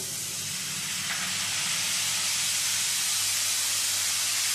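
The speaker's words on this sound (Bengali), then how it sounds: "এখন এর মধ্যে দিয়ে দেব সামান্য বাটি ধোয়া জল।" Water from rinsing a bowl poured into frying spice paste in a pan, giving a loud, steady broadband sizzle and hiss that holds for the full few seconds with no talk over it.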